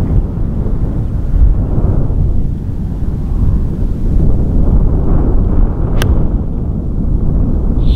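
Wind gusts steadily across a golf course at Heswall Golf Club, a continuous low rumbling roar buffeting the microphone for the whole stretch, with no voices.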